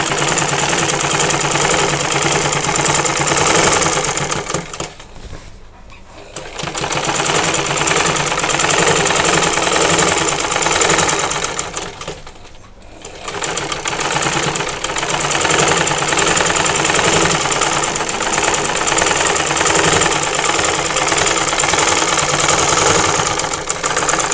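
A sewing machine stitching the side slit of a kameez, a loud continuous motorized whirring that stops briefly twice before running on again.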